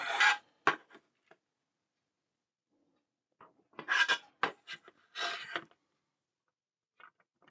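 Small AP screws being driven into a plastic part of a Fast & Furious Nissan Skyline GT-R model kit, heard as short quiet bursts of rasping screwdriver turns in two clusters separated by silence, with a few faint clicks.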